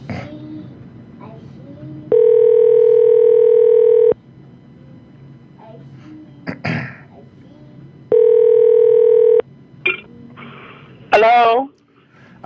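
A telephone call rings out through the handset while the caller waits for an answer, giving two long, loud, steady ring tones a few seconds apart. Someone talks in the quiet gaps between them.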